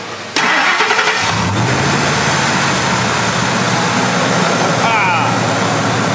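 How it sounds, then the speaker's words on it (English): The 5.4L supercharged engine of a 2002 Ford F150 Lightning with a lean-running fault cranks briefly then catches, settling into a steady rumbling idle close by, with a short squeal partway through. "Let's see if this thing's gonna turn over and crank."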